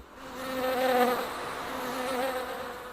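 Honeybees buzz steadily in a close, continuous drone that swells and fades as they move about, with no voices over it.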